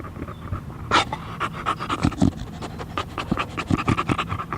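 A dog named Malley pants heavily and rhythmically close by, giving a rapid rasping huff that loosely recalls an idling motorcycle engine, loud and continuous with no talk over it.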